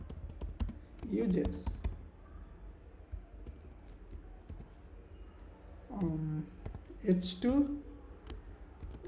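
Rapid clicking keystrokes on a computer keyboard while HTML code is typed, steady close clatter running throughout, with someone talking over it in short bursts.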